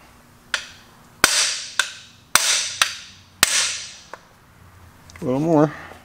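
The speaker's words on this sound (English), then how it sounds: "I gotta switch to a heavier hammer." A hammer strikes a cheap cam bearing installation tool in about seven sharp, close metallic blows at uneven intervals, each with a brief ringing tail, followed by a short vocal sound.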